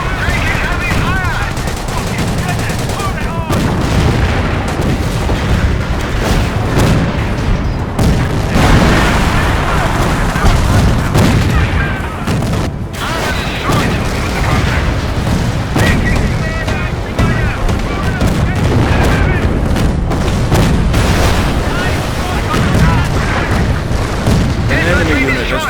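Explosions and heavy gunfire from a Company of Heroes battle during Operation Market Garden: continuous loud booms and rattling machine-gun bursts fill the scene, with shouted voices mixed in throughout.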